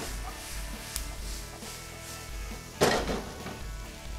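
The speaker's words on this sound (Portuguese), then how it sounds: "Enquanto a cebola vai dourando" Onion frying and browning in a pan, a steady soft sizzle with a few light utensil clinks and one louder scrape near the end, close and alone.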